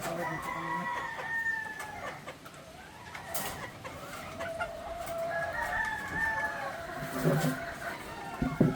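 A Boston Black rooster mating with a hen brings close clucks and a crowing call amid rustling farmyard activity, with a person talking at times.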